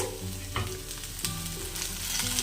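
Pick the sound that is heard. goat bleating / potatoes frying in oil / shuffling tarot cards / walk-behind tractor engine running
potatoes frying in oil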